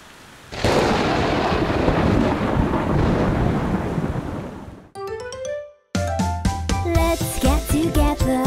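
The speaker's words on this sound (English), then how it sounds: "Did you hear that? It's thunder!" A long, loud rumble of thunder rolls for several seconds, then gives way to a short burst of bright musical tones.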